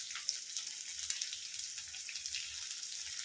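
Thinly sliced onions stir-frying on high flame for chowmein, a steady soft hissing sizzle with faint scattered crackles, close but quiet and uninterrupted.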